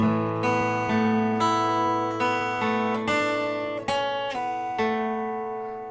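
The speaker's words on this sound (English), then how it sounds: "So it plays the open high strings." An electric guitar lets ring a sequence of picked notes on the open high strings, each struck note sustaining and overlapping as the sound slowly fades, with no talking.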